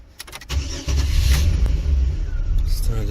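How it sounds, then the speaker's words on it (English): A car engine cranks and catches after a brief pause, then settles into a loud, close, rumbling idle, with voices nearby. "Start the vehicle."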